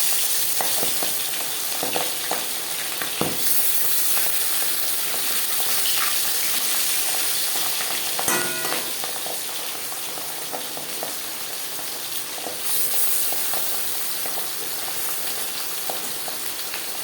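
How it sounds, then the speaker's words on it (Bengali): Marinated pabda fish drops into hot mustard oil and fries, a loud, continuous close crackling sizzle with occasional spatters and small clinks, steady throughout with no one speaking. "5 চামচ সরষের তেল গরম করে নিয়েছি। এবার দিয়ে দেব ম্যারিনেট করে রাখা পাবদা মাছ।"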